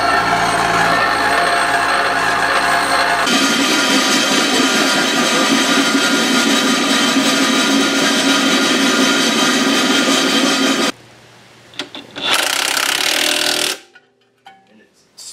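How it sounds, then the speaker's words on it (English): A bench grinder runs loud and steady close by, with a harsh grinding roar that swells as work is pressed against it and then stops abruptly near the end. Brief talk is heard in between. "This is going straight to the bench grinder."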